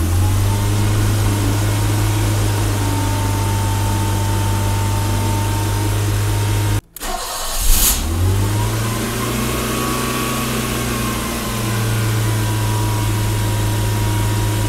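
A BMW E30 engine with an idle problem runs loud and steady up close, cuts out briefly with a sharp click, then catches again and settles back into a humming idle.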